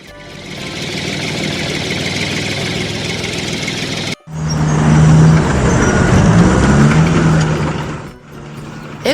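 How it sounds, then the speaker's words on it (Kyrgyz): A tractor engine idles with a loud, steady rumble, then a louder, throatier run with a deep hum, easing off near the end. "Трактор."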